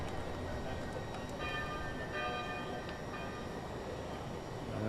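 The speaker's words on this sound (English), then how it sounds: "They're ringing the bells." Church bells ring out at a distance, their tones hanging over a steady rumbling background noise.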